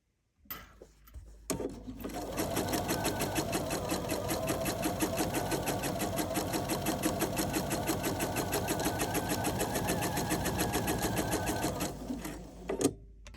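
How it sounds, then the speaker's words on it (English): A sewing machine runs steadily for about ten seconds, stitching a quarter-inch seam around the rounded outer edge of a welder's cap bill. The whirring is close and continuous, with a few softer handling sounds before and after. "we're going to stitch a 1/4 inch seam around the rounded edge"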